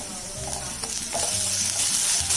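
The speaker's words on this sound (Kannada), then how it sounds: "ಇದು 1 ನಿಮಿಷ ಫ್ರೈ ಮಾಡ್ಕೋಬೇಕು." Onion browning with ginger garlic paste in a pan sizzles steadily, with occasional stirring scrapes over a continuous hiss; no talking.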